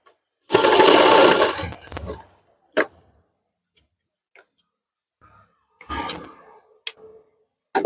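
Sewing machine stitching the back pocket of a men's trousers: one loud burst of steady running lasting under two seconds, then scattered short clicks and a second brief run near the end, with no talk.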